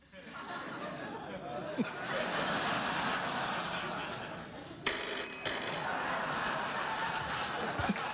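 A telephone rings in a studio setting, its bell tone repeating through the clip amid background chatter and laughter, with a sharper ring near the middle.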